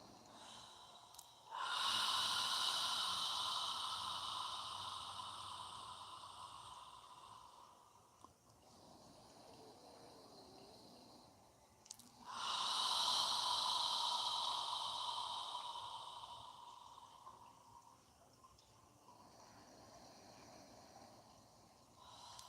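Deep breathing during a yoga session, two long loud exhalations forced out through the mouth, each a rushing breath that slowly tapers, separated by a quieter pause.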